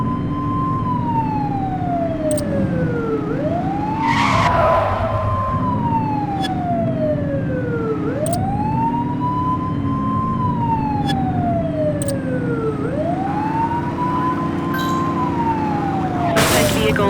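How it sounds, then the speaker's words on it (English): Police car siren in a video game, a loud wailing tone rising and falling in repeated long sweeps over engine hum, with a few short bursts and bangs of game noise. "Remember to turn your siren on."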